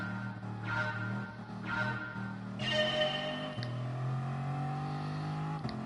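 Several race car engines in the video game Gran Turismo Sport drone and rise in pitch with gear changes, a steady layered roar that shifts upward every second or two.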